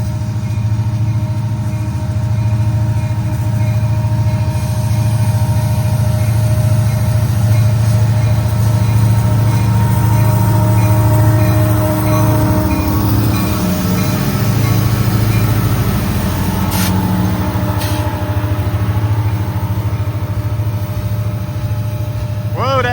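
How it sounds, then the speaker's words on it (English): Underpowered loaded coal train pulling up a grade on a single locomotive, its engine droning loud and constant with a strained whine throughout, plus brief metallic squeals near the end. "But that's why this engine is just screaming. They must have just one engine on this whole train."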